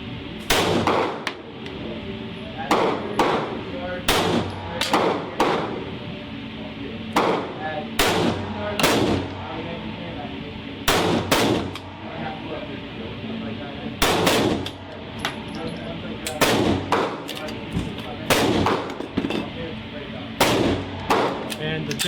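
Handgun shots with Winchester White Box ammunition fired at a 7-yard target, a run of loud sharp cracks in irregular pairs and clusters with short pauses between them.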